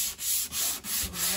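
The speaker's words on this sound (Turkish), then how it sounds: "baba geçişlerini zımparalıyor" Sandpaper rubs back and forth over joints on a caravan ceiling, four or five steady rhythmic strokes close by, with nothing else heard.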